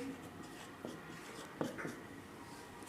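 Pen or chalk writing numbers during a maths lesson, a faint continuous scratch with a few brief, slightly louder strokes over steady room noise, nobody talking.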